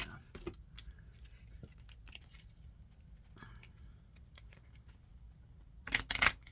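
Soft scattered clicks and riffles of cards, ending in a louder burst of rapid shuffling near the end.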